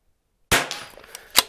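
Rifle shots fired from a standing position at an outdoor shooting range, two sharp loud cracks about a second apart with a short echoing tail after the first.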